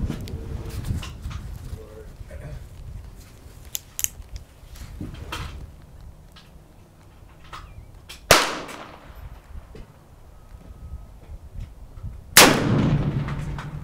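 A Colt Walker .44 revolver fires two loud, booming shots about four seconds apart, each trailing off with a reverberant tail, after a stretch of quiet ambient noise with a few faint clicks.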